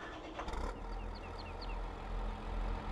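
Tractor engine idling in the farming game Farming Simulator 22, a steady low mechanical hum holding evenly throughout at moderate level, with faint chirping birds above it and no talking.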